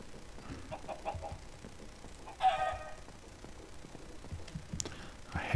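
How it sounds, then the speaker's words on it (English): Chickens in a video game building preview, intermittent clucking and a brief louder squawk over a low ambient background, with no talking. "I hate chickens."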